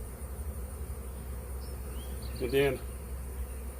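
Honey bees shaken off capped cut-comb honey from a large hive buzz faintly against steady low background noise, with a brief louder buzz close by near the middle and a short spoken remark.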